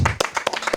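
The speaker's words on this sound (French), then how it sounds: "je les invite à nous applaudir encore" A live concert audience claps and applauds between songs, with sharp separate hand claps arriving in a quick uneven rhythm over a short burst, close and fairly loud.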